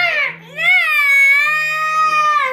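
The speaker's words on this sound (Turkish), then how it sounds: "ya niye ağlıyorsun?" A young child cries close by, one loud, sustained, wavering wail that lasts a couple of seconds after a short sob at the start.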